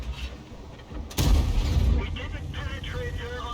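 A sudden heavy boom of tank cannon fire in World of Tanks, involving an Object 260 and a 279E, bursts out near the middle of the clip and rumbles on, with a commentator talking over the battle.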